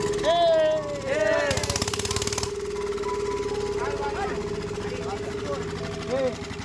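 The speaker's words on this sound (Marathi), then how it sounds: "पंप आपला चालू झालेला आहे रे" A steady water pump motor hum drones throughout with a constant pitch, while people talk and laugh over it and a brief burst of clattering noise cuts in early.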